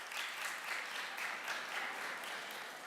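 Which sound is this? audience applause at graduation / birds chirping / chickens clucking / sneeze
audience applause at graduation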